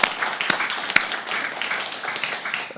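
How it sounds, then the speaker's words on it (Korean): A church congregation applauds during a service, giving a moderate burst of scattered hand clapping that runs steadily throughout with no talking. "하나님께 영광의 박수 한번 올려드리겠습니다."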